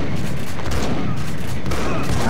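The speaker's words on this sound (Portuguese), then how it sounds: "Dois tiros no Kokoroto e nada, né?" Dense, loud bursts of gunfire in the PC game Max Payne crackle almost continuously, a rapid fusillade of shots filling the mix with little pause.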